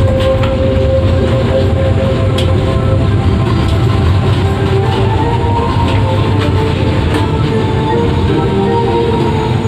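Dharmawangsa executive-class passenger train running on rails, heard from inside as a loud, steady rumble with rhythmic wheel clicks and faint metallic squeals throughout.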